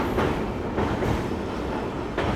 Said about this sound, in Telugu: ప్రజెంట్ తుంగభద్ర మీద నుంచి అయితే మన ట్రైన్ పోతుంది. నిదానంగా మెల్లగా అయితే పోతుంది.